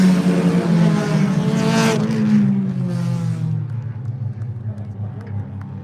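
Mini stock race cars roar around Buds Speedway in Cape Breton, Nova Scotia, during a heat race, loud engines droning and sweeping down in pitch as they pass close by, a steady racing din throughout.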